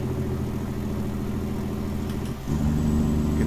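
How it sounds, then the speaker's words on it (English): A Kenworth T600 truck in American Truck Simulator has its engine brake engaged, giving a steady rapid chugging drone that shifts pitch and grows louder as a second stage kicks in, with no talk over it. "Really like the Jake on this engine."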